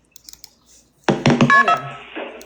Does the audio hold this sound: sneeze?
no